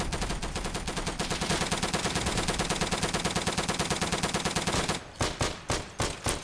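Gunfire in the World War II shooter Day of Infamy: a loud, rapid burst of sustained automatic fire, then several separate sharp shots spaced apart near the end.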